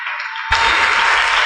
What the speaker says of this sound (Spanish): Denles ofrenda de palmas al Señor con todo su corazón